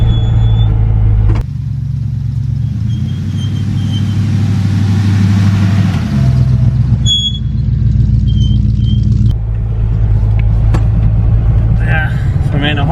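A 1971 Chevy truck drives through a snowstorm with a steady low engine rumble and road roar throughout, loud and close from inside the cab, while people talk over it.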